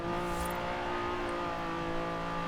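A Honda NSX with a swapped high-horsepower engine roars in Forza Horizon 4, a loud, sustained, high-revving engine tone held steady throughout.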